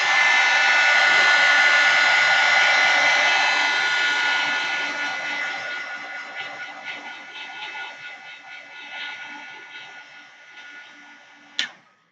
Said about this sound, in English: I'm going to go ahead and blow dry it to make it dry faster.